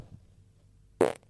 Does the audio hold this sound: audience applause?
no